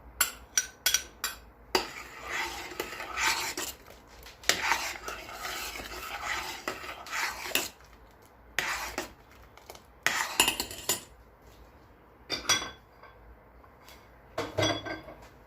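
A spoon scrapes and clinks against a pot while rice pudding is stirred and a prepared mixture is added, irregular metallic knocks in bursts with quiet gaps between.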